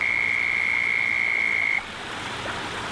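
A single frog near a bass pond gives a sustained, trilling croak for nearly two seconds, loud and close, then stops, leaving quiet outdoor background.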